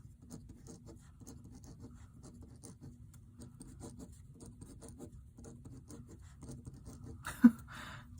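Soft, continuous scratching of a pencil on paper, quick short strokes in a steady rhythm, close by, ending with a brief louder knock.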